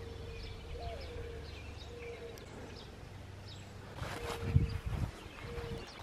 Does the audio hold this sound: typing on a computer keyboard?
no